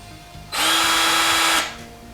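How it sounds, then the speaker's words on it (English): A Black & Decker 20-volt cordless drill spins up sharply, runs at a steady high whine for about a second, then winds down, loud and close with no talk. "that's the Black Decker 20-volt drill"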